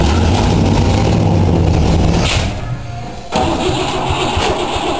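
A Cadillac engine with a carburetor freshly primed with fuel turns over and runs loud and rough up close, dips briefly and stumbles, then catches again and keeps running.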